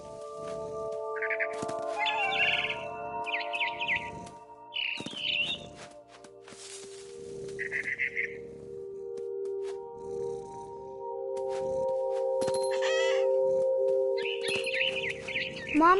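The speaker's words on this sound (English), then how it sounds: "Then I heard chirping outside my window. It was a barn swallow going back to her nest." Short bursts of chirping from a barn swallow returning to her nest, repeated over a steady tonal hum with faint background rustling.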